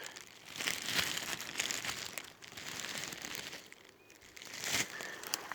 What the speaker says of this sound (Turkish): Bunu da poşetimize atıyoruz yavaş yavaş poşetimizi dolduruyoruz.